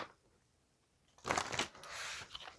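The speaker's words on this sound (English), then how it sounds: "I do like to shuffle on camera just so that you guys can see" A quick riffle of cards being shuffled, a crisp fluttering burst followed by a softer rustle, close and fairly quiet.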